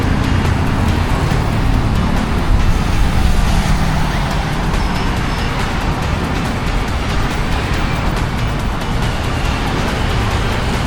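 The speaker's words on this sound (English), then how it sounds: "huge amount of traffic" Heavy road traffic on a busy Jakarta street, a steady broadband roar of cars and other vehicles that continues without a break and stays loud and close throughout.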